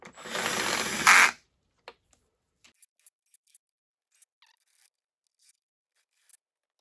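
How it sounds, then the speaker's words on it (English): A drill whirs loudly for just over a second while nipping up the cam bearing retainer cover bolts on a Yamaha YZ450F engine rebuild, then only a few faint, scattered tool clicks follow in a quiet workshop. "I'll just nip them up with drill first."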